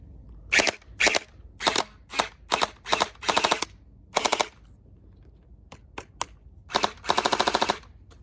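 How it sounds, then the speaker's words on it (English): Vasvarn MP5-K gel blaster firing in a string of short rapid bursts separated by brief pauses, sharp mechanical rattling pops up close, ending in a longer burst, with no talk. "let's go ahead and turn on the blaster and get firing"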